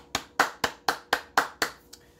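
Hands clapping in applause. About seven sharp, evenly spaced claps ring out close and fairly loud over roughly two seconds, and the last one is fainter.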